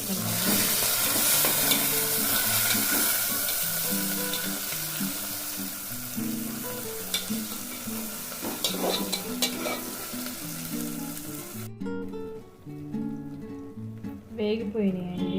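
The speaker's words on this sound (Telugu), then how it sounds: "ఇది కొత్తిమీర పుదీనా వేగిపోయినాయండి" Coriander and mint fry in oil for a coconut milk chicken biryani, giving a loud continuous sizzle with stirring clatter. The frying drops away near the end, leaving a few quieter clinks and a brief voice.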